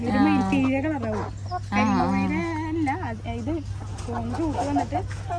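Chickens cluck and call repeatedly at close range over a steady low hum, with a person talking among the birds.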